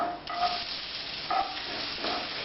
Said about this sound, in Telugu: ఇప్పుడు ఉల్లిపాయ ముక్కలు వేద్దాం